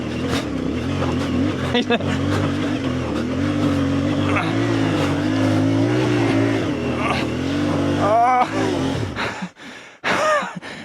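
A CFMOTO 450 MT motorcycle revs hard climbing a steep off-road hill, its engine droning loud and close before cutting out near the end, with a rider's voice heard over it.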